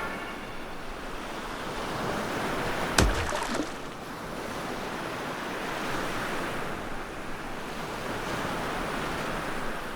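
Sea waves wash in a steady, broad rush with a gusty wind edge, and one sharp knock-like hit partway through.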